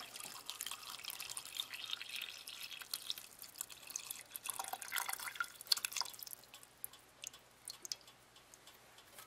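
Beef broth from a can splashes and trickles into a pot of homemade beef-barley soup, an uneven, fairly close liquid patter with small drips over several seconds.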